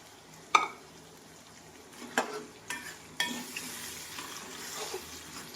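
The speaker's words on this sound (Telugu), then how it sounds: "ఇప్పుడు మనం తీసి పెట్టుకున్న చింతపండు పులుసు పోసేసుకోవాలండి" Tamarind juice poured into chicken frying in a pan for chicken avakaya: a sudden splash followed by sizzling and a few stirring clunks, close and moderately loud.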